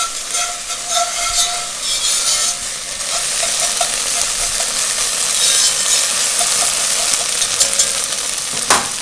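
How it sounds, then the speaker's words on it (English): Tomato paste caramelizing with onions in a soup pot, a steady sizzle with scraping stirring strokes that grows slightly louder, ending on a sharp knock. "You want that tomato paste to actually start to caramelize with these onions"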